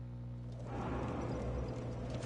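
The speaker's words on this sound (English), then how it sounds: "If you go so far away from where you're supposed to be, a horse will spawn on you." A horse appearing in Dark Souls 2, heard as a steady band of hooves and low equine tones that grows fuller after the first half second, loud and continuous without speech.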